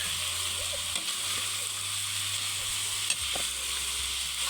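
Chopped banana heart sautéed with pork backbone sizzles steadily in a pan, a close continuous frying hiss with a few faint stirring clicks and no talk.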